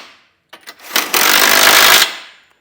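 Ratcheting and drive bursts from a 19mm socket snugging down hardware on an EcoHitch hidden trailer hitch receiver, a few short clicks followed by a loud, steady buzzing run of about a second, close up and without talk.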